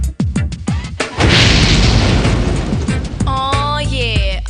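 A big explosion sound effect: a few sharp thuds, then one loud booming blast with a roaring rush that fades into a ringing, wavering tone.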